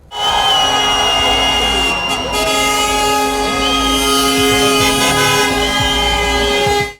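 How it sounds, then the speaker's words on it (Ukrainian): Loud horns of passing cars in Odesa blare almost continuously, several overlapping tones sounding together close by for the whole stretch. "машини, що проїжджають повз, гучно сигналять"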